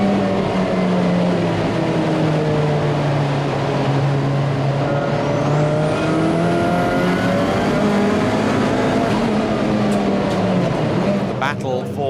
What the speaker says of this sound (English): Nick Vaughan has set about closing in on the big V8 Vantage.